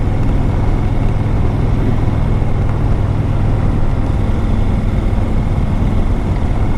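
A Honda VTX cruiser motorcycle riding on open roads in Pennsylvania, a loud, steady low engine rumble mixed with heavy wind noise, continuous and close, with no talking.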